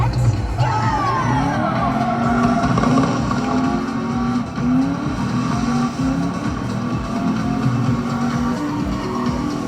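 A race car engine in a video game drones steadily with rising and falling revs, loud and continuous throughout, on a Madagascar-themed track.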